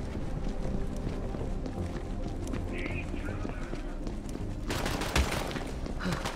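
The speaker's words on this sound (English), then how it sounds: "Who in the hell's shooting?" Gunfire in Borderlands 3 as a sustained dense wash of game noise with bursts of shots, growing sharper and louder in the final seconds with a distinct crack near the end.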